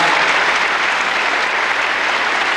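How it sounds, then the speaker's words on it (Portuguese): A standing audience at a 1999 national educators' meeting on agrarian reform gives loud, continuous applause, a thick, close wall of clapping with no speech over it. "O público aplaude de pé."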